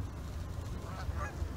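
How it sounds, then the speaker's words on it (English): Migrating geese honk faintly in the distance, a few short calls rising over a steady low outdoor rumble, with no voices. "these geese are migrating."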